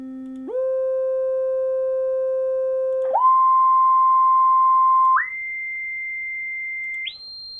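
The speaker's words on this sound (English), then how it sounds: "So I will redo this sequence from C4 to C8 for you to notice that these notes sound very much the same." A pure whistle-like tone steps upward through octaves from C4 to C8, each note held steadily for about two seconds before jumping higher, five notes in all, clean and alone without any talk.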